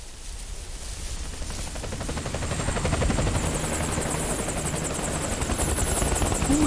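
A helicopter in Metal Gear Solid 4 comes in to land at a graveyard, its rotor chop throbbing steadily and growing louder as it nears, with a high whine above the wash of noise.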